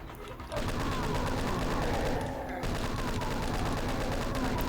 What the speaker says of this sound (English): So I'll use the chain gun to take them out